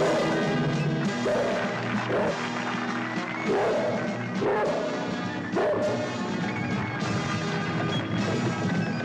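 A huge dog barking loudly in a 1973 circus ring scene, with repeated deep barks and yelps among crashes and a noisy band-like backdrop.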